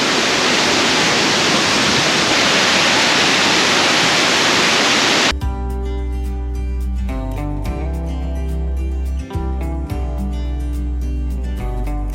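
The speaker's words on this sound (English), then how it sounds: "Waterfall." A steady, loud rushing roar of falling water fills the first few seconds, then cuts off abruptly as music takes over.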